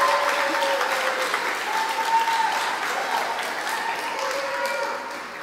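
Crowd applause for a Peppa Pig costume contestant at a costume contest, loud sustained clapping and cheering from a nearby audience, with voices mixed in throughout.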